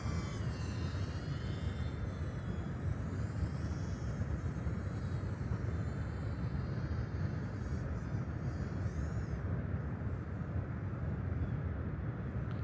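A Flywoo FlyLens 85 FPV drone on its first flight gives off a constant, close buzzing whine of small spinning propellers, steady and loud throughout with slight shifts in pitch as it maneuvers.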